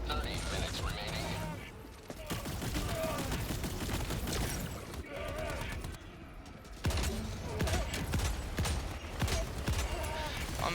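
Gunfire in Helldivers 2 during a solo Super Helldive mission with an Illuminate build, dense rapid bursts of shots mixed with game effects, loud and continuous with short pauses, under occasional talk.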